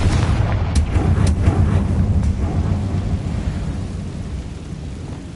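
Confringo spell explosion in Hogwarts Legacy on PS5, a heavy booming blast with a few crackling bursts early on, then a long, low rumble that slowly dies away.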